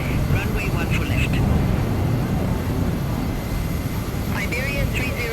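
Air Nostrum CRJ 1000 jet taking off from Toulouse Blagnac during thunderstorms, a steady broad engine roar close by and sustained throughout, with radio tower chatter over it.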